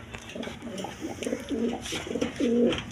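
Lahori pigeons, a running pair, coo in a series of soft repeated low calls, close and fairly quiet, over light background noise.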